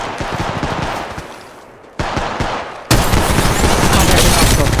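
Rapid automatic gunfire from Apex Legends Mobile, loud and close, in sustained bursts that pause briefly and then resume heavier and denser toward the end.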